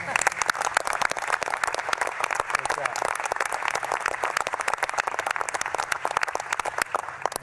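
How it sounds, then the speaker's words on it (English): Audience applause fills a formal government gathering at a space and rocket center in Huntsville, Alabama: dense, steady clapping from a large crowd, loud and sustained throughout with no break. "I think that's worth a round of applause."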